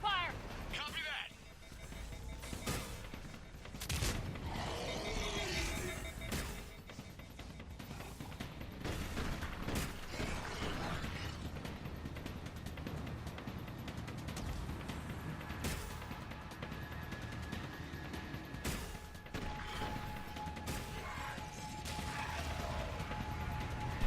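Gunfire and explosive impacts in Mass Effect 3 Leviathan DLC combat, loud bursts and crashes over a steady mechanical hum, with people talking throughout.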